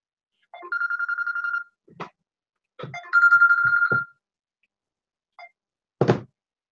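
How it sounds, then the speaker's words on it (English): A telephone rings in two short electronic trilling bursts separated by a pause, with a few knocks and thumps around them in an otherwise quiet room. "We've got a phone call."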